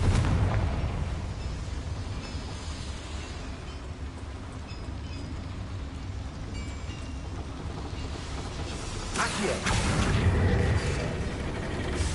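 A Confringo spell is cast in Hogwarts Legacy inside a mine, heard as a steady low rumble that swells into a bursting explosion near the end, loud and alone.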